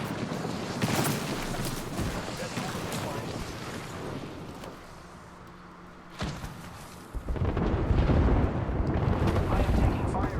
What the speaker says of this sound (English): Airstrike on.